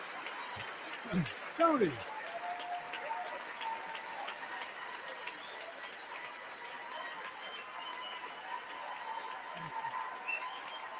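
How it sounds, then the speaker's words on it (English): A State of the Union crowd gives a standing ovation, with sustained applause and cheering filling the room as a dense, steady roar, while people talk briefly over it near the start and end. "He's getting like a standing ovation, bro. Everyone's like cheering about how great he's doing."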